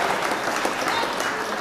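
A mushaira audience breaks into loud, dense applause, a steady wash of many hands clapping from a large crowd, continuous and even throughout the short moment.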